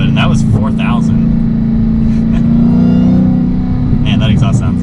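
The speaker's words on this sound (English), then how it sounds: "Man, that exhaust sounds good." A Dodge Challenger SRT Hellcat's engine drones loud and steady from inside the cabin, its exhaust rising in a brief swell of acceleration while someone talks over it.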